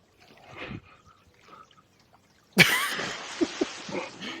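A video game character leaps into water, a sudden loud splash with broad hiss that settles into sloshing and bubbling water with a few small plops, after quiet murmuring game sounds.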